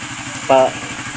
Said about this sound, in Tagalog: susubukan na natin yung motor. Mini driving.